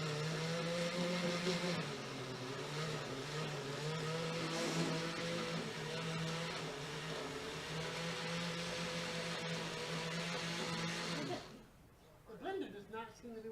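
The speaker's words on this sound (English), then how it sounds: "The blender does not seem to be working for this part." Kitchen blender runs continuously for about eleven seconds, a loud, close whirring motor hum that wavers slightly under load while blending an oily mixture, then cuts off as people start talking.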